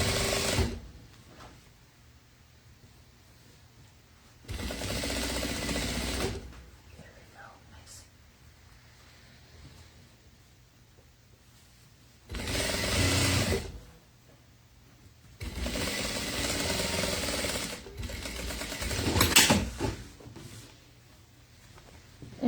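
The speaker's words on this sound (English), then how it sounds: "we'll do our edge stitching with this as well" A sewing machine edge stitching a seam on a wedding gown runs in several separate bursts of a few seconds each, loud and close, with quieter handling and rustling in the pauses between them.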